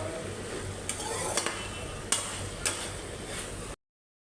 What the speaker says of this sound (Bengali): ভেন্ডি ভাজিলে হালকা টমেটো দিয়ে দিচ্ছি।